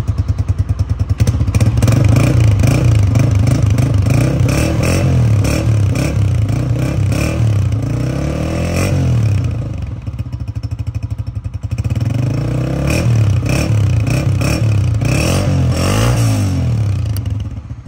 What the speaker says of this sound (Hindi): तो साउंड आप इस बाइक का सुने ज़रा